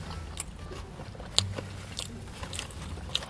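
Someone sits in a car eating Zaxby's food and chews with the mouth open, giving close, wet crunching and smacking bites at an irregular pace, with no talking.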